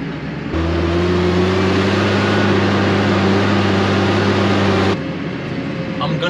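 A New Holland T6.180 methane-powered tractor engine working hard under load, holding a loud, steady droning pitch for several seconds before the note drops away.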